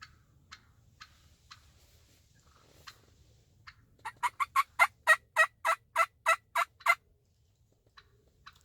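Wild turkey tom gobbling during a Wisconsin spring hunt: faint clucking calls at first, then a loud rapid run of about a dozen gobbling pulses, fairly near, with no talking.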